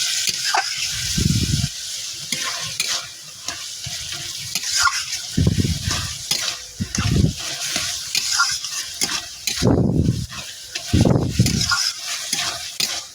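Bottle gourd ghonto with prawns cooks in a pan, a spoon scraping and stirring in irregular bursts over a soft continuous sizzle, close and fairly loud, with no talking.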